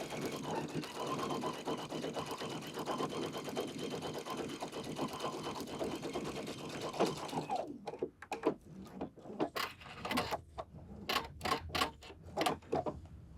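Sewing machine stitching a jacket seam runs in a steady, continuous close-up whir, then breaks into short stop-start bursts of stitching with brief pauses between them.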